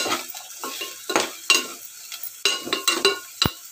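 Sliced onions and green chillies frying in a pan, with a spoon scraping and stirring in repeated bursts over a light sizzle, close and clear with no talking.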